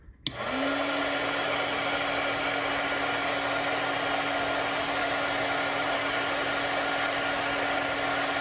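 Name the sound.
heat gun shrinking 1/8 heat shrink tubing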